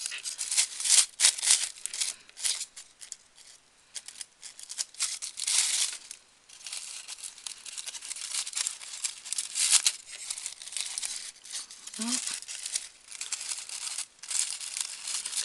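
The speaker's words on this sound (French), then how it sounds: "Vous voyez, toutes les couches de papier, il faut bien toutes les écarter." Crepe paper layers of a small carnation-style paper flower being pulled apart by hand, giving steady dry crinkling and rustling in close bursts throughout, with no speech.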